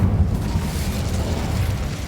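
Incendio fire spell cast in the Hogwarts Legacy video game, a steady loud roaring whoosh of flame held for about two seconds with no talk over it.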